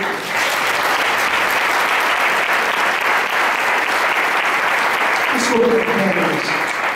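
Church congregation applauding together, a steady dense wash of clapping that fills the room for several seconds, with a voice briefly rising over it near the end.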